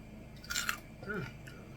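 Crisp crunching from a bite of roast pork with a small piece of crackling skin (cuerito) on a Cuban sandwich, a short burst of close chewing crunches with faint background noise.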